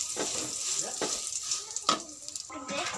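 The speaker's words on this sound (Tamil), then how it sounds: "எண்ணெயில் நல்லா ஃப்ரை பண்ணி எடுத்துக்கோங்க" Dried curry leaves fry in hot oil in a pan, giving a steady bright sizzle with crackling spurts as they are stirred, up close and without talk.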